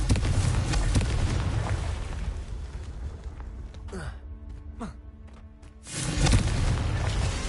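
A Confringo blasting spell bursts in Hogwarts Legacy, a loud booming explosion that fills the soundscape at the start, fades into a quieter stretch with a few whooshing magical effects, then erupts again in a second heavy blast near the end.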